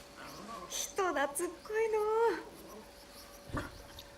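A puppy gives a few high, wavering whimpers and whines, fairly close and soft, with a short breathy sniff near the end.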